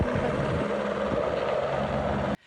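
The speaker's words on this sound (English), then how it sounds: "so this helicopter tried to scoop up some water." A helicopter scooping up water during wildfires in France, its steady loud rotor and engine roar droning continuously before cutting off abruptly near the end.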